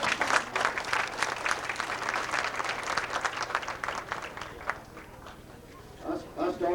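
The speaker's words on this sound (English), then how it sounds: "I think they deserve a round of applause" Applause from guests at a 1996 Milan Bulldogs football banquet, a steady wash of clapping for most of the stretch that thins out near the end as voices talk over it.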